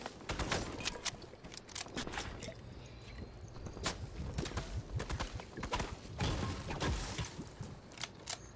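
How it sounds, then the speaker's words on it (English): Fortnite gunfire hitting a window, a rapid run of sharp shots and impacts that are moderately loud and continue through most of the stretch. "They're probably just shooting a window right now."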